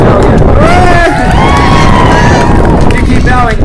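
Continuous loud cheering and clapping from a street-show audience as a young boy keeps bowing, a thick roar of applause and whoops filling the whole stretch.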